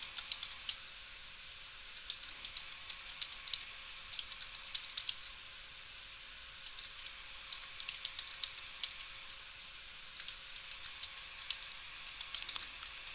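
Typing on a computer keyboard comes through as quiet, irregular clusters of light key clicks spread across several seconds over a faint steady hum, with no talking.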